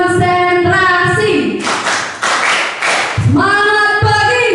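Audience members clapping together in a rhythmic ice-breaking concentration game at a school positive-culture dissemination session, with short bursts of claps around a longer stretch of loud, dense group clapping, with voices chanting over the start and end.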